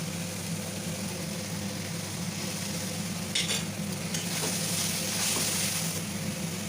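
Ginger, onion and garlic cook down in a pan over a medium flame with a splash of rose water, a steady close sizzle with brief scraping stirs and a burst of fresh spitting midway.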